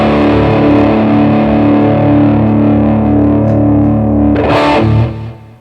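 Electric guitar played through a hand-built BK Butler Tube Driver clone overdrive pedal with the knob turned fully right, giving a loud, sustained distorted chord that rings steadily before a brief burst and quick fade at the end.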